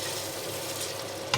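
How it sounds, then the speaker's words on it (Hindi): Kofta curry masala frying in a pan gives a steady, moderate sizzle, with a short sharp scrape of stirring near the end. "अब इनको अच्छी तरह भून लेंगे। मैं बीच बीच में हिला लेती हूँ"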